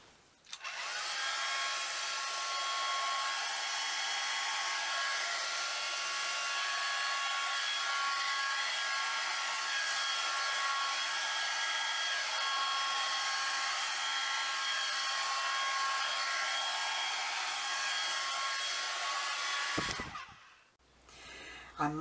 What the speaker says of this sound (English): I might actually stop the hairdryer now and do a little bit of tilting.